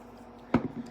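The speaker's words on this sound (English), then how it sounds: "Spraying with the Milani Make It Last." Milani Make It Last setting spray gives one short, close spritz from a hand pump bottle during a makeup routine, a quick burst against a quiet room.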